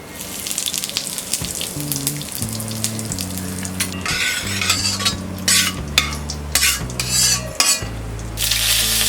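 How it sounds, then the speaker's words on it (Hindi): Carom seeds and asafoetida crackling in hot oil in a pan, a loud frying sizzle with bursts of hissing and some stirring clatter beneath background music, without talking. "अब हम इसमें डालेंगे ये ½ टीस्पून अजवाइन या कैरम सीड्स, ½ टीस्पून हींग"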